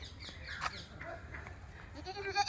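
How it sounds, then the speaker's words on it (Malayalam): Goats bleat outdoors, a couple of clear nearby calls over steady background noise, with another bleat rising toward the end. "ആടുകളുണ്ട് കേട്ടോ അവിടെ."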